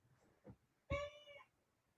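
A hungry house cat meowing for food indoors: one soft short call, then a clear, louder drawn-out meow, close and alone in a quiet room.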